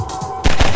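Submachine gun fire in Half-Life 2, a short burst of several sharp, loud shots ringing out suddenly after a quiet stretch of low ambient hum.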